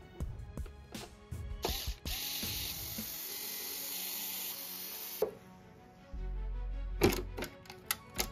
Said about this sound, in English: Now we can remove the motherboard by removing 5 screws.